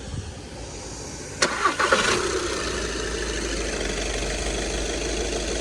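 A 2.0 TDI diesel Skoda Octavia cranks with a sharp burst of ignition sounds, then settles into a steady, even idle that holds close and constant to the end.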